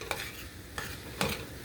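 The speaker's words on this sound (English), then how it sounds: "come back over and stir that until that butter melts" Butter being stirred as it melts in a pan for jalapeno cream corn, with three or four distinct scraping strokes spaced about half a second apart over a faint background hiss.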